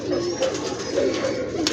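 A female pigeon from a long-kept fancy breed coos softly in low, rolling repeated notes close by, with faint background chatter.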